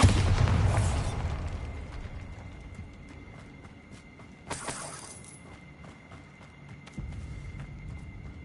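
The Bombarda explosion spell goes off in Hogwarts Legacy, a loud crashing burst at the start that fades into a low rumble, followed by a second sharp blast midway and a softer thump near the end over steady game ambience.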